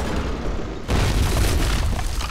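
A loud explosion in the video game Fallout: New Vegas hits with a sudden boom and then a sustained, rumbling roar that fills the rest of the moment with no talk.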